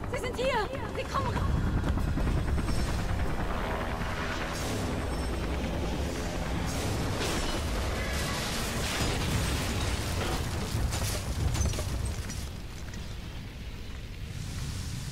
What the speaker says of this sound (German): So geht's auch, wenn man kein Auto zum Schmeißen mehr findet, lässt man Hubschrauber abstürzen.